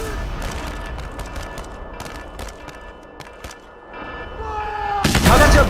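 Rapid gunfire crackles in a simulated daytime attack, with sharp repeated shots in irregular bursts, a brief lull, then a louder, denser volley at the end, some shots sounding near and others further off.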